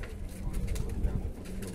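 Pigeons in a large flock cooing close by in a brief, steady murmur of soft coos, with faint background voices.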